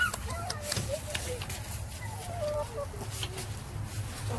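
Hens cluck in short, soft bursts at a chicken coop under a deck, fairly close, with people talking over them.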